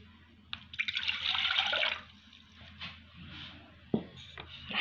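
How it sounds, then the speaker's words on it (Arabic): Water from a glass pours into a casserole pot while bread dough is being made, giving a short splashing burst in the first seconds followed by quieter drips and small knocks. "راح نضيفو فيها هذا الكأس تاع الماء"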